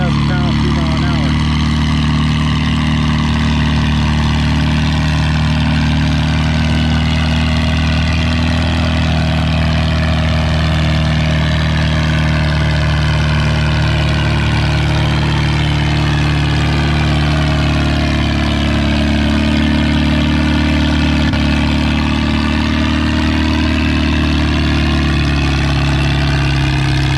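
A Farmall 350 tractor at a vintage tractor pull drags a 5,000 pound sled at 3 miles an hour, its engine droning loud and steady the whole way with a low throbbing rumble.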